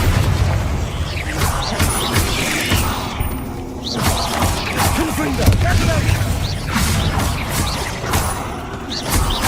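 Spell blasts from Confringo and Bombarda burst repeatedly in Hogwarts Legacy combat against spiders, loud booms and crackling impacts layered over dense game noise and music, with a voice casting spells between them.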